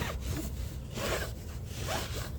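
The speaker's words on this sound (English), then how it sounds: "one thing it did say didn't want you to let it dry on there, so let's start wiping down" A microfiber cloth wipes degreaser off a surface in quick, rough rubbing strokes, three close scrubbing passes with a raspy, sawing texture and no talk.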